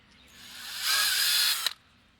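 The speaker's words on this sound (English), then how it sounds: "drilling rubber is not an easy task" A power drill bores a hole through rubber for a John Deere snowblower rebuild, a rising high whine that holds for about a second before cutting off with a short clatter, heard alone and fairly close.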